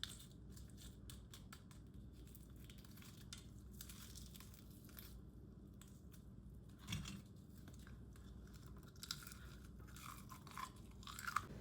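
Crisp, close-up crunching and chewing of crispy fried chicken, repeated bites with sharp crackly snaps over a steady low rumble, no talking.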